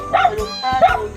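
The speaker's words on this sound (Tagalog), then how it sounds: "Maingay si aso mo." A dog barks twice in short, close bursts, with a person's voice mixed in around the barks.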